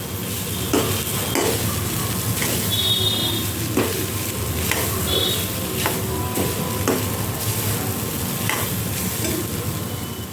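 Grated coconut roasts in ghee in a pan, a steady close sizzle with repeated scraping strokes of a spoon stirring and occasional light clinks against the metal, no talking.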